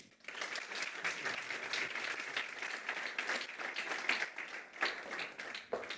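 Audience applause at an awards gala for research and technological innovation honouring the CSIC president, a steady, dense wash of clapping lasting several seconds at moderate level before tapering slightly at the end.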